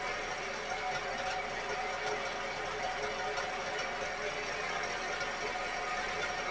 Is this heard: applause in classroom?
no